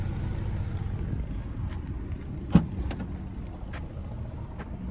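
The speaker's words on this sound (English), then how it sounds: "Here's the exhaust." A 2018 Chevrolet Equinox LT with the 1.5-litre turbo engine runs at a quiet idle, heard faintly from near the exhaust with a low steady hum and a few small clicks and one brief knock.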